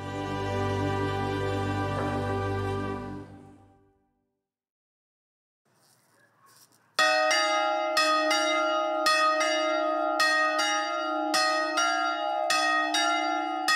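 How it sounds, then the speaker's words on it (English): Church bells ring on Gorgona, an Italian prison island, striking loud and clear in a steady, evenly spaced peal after a sustained tone fades into a brief silence. "Paolo Penaccione rings the bells"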